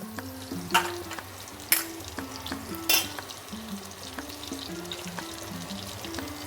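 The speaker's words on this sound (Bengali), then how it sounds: "নুন হলুদ দিয়ে আমি আলুটাকে ভেজে নেব।" Potato pieces frying in a pan with salt and turmeric for a rohu fish kalia, a steady soft sizzle with a few sharp stirring scrapes and clinks, close and moderate in level with no talking.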